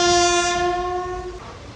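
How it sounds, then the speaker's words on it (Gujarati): An Indian Railways diesel locomotive from the Gandhidham shed sounds one loud, sustained horn blast that cuts off abruptly, leaving a low rumble of the moving train. "ડીઝલ લોકો શેડ ગાંધીધામ ઇન્ડિયન રેલવેઝ."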